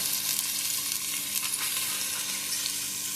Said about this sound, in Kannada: ಎಲ್ಲ ಫ್ರೈ ಮಾಡ್ತೀನಿ ಫ್ರೈ ಆಗಲಿದೆ